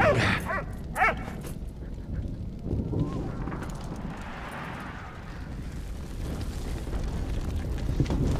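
A dog barks a few times in the World War I video game Valiant Hearts: The Great War, short yips early on, then rumbling game ambience and battle noise continue underneath.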